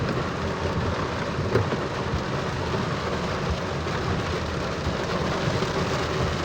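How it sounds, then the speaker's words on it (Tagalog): Heavy rain pours down in a dense, constant roar, with no pauses and no voices. "Grabe lakas ng ulan, no?"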